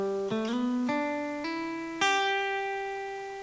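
A clean guitar plays a short ascending run of single notes, each plucked one at a time, with the last note ringing out and slowly fading.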